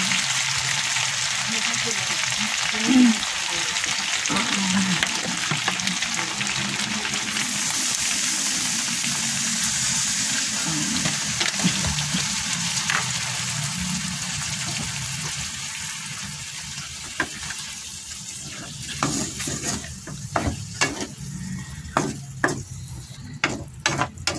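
Pork simmering in a pan after water is added, liquid bubbling and sizzling in a steady wet hiss with occasional stirring clatter and light knocks toward the end.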